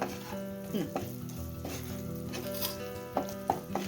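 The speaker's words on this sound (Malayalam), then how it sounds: "ഇനി ഇതിനെ നന്നായിട്ട് ഇളക്കി യോജിപ്പിച്ച് കണ്ടോ ഇപ്പം മുളകൊക്കെ മൂത്തിട്ടുണ്ട് കണ്ടോ" Coriander powder and chilli masala frying in a pan for a fish curry, a dense close sizzle with repeated scraping stirs of a spoon against the pan, no voices.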